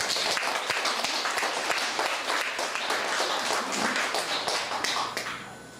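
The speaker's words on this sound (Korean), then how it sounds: "우리 두 분에게 큰 박수를 한번 부탁드리겠습니다." A lecture audience claps for two school staff being honored, a dense sustained patter of many hands at steady loudness that tapers off near the end, with no talk over it.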